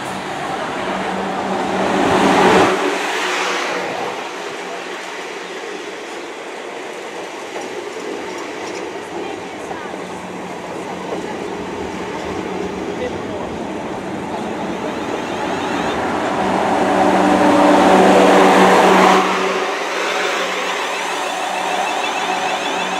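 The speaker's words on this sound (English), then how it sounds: "arriving now is a terminating Southwest trains 444 off London Waterloo" A South West Trains class 444 electric unit, 444027, arrives and terminates from London Waterloo, a steady rolling rumble and hum of wheels and motors that swells loudest near the start and again near the end.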